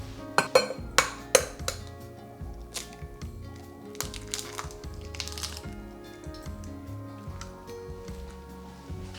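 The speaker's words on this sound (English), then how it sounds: "And we'll just whisk this up." Egg and half a cup of milk whisked together in a bowl, a steady run of quick, close clinking strokes against the bowl's sides, a few sharper knocks at the start, with no talk.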